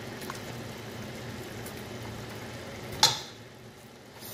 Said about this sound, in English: I'm adding my meat right now because I cooked it.